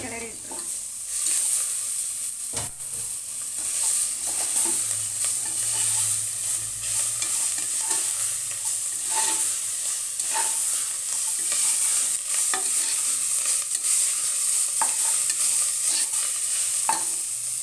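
A spoon stirs chopped tomatoes, coriander and mint into chicken biryani in a pressure cooker, giving steady scraping and stirring under a constant bright sizzle and frying hiss, close and with no talk.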